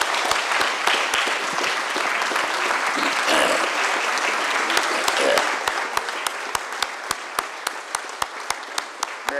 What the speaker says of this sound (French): je voudrais qu'on salue nos lauréats en vous levant et en les applaudissant